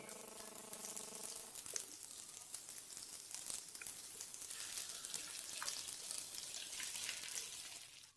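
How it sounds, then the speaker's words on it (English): Paneer cubes deep frying in hot oil make a steady, faint bubbling sizzle that runs throughout without any voice. "So deep fry all the paneer cubes."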